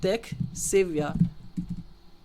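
Website address typed on a computer keyboard, soft key clicks that are partly masked by someone talking over them close up.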